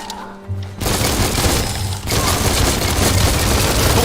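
Gunfire rattles in the mobile shooter game Gold & Goblin, with dense bursts and booms that are loud and continuous after a brief quieter opening.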